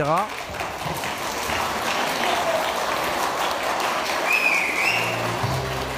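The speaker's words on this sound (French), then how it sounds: "Et applaudi comme une star." Steady, dense applause from a large crowd, continuous and loud throughout, with a few voices and a faint whistle rising above the clapping.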